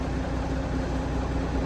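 A hay tractor's engine idles steadily nearby, a low, even mechanical drone with a faint rhythmic pulse and no voices.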